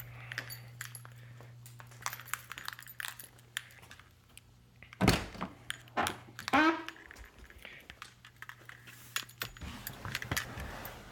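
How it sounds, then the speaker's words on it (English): Car keys for a 1991 Mitsubishi Galant VR4 jangle and clink in short, scattered bursts close by, with a sharper rattle midway, against a quiet room hum. "I need the keys."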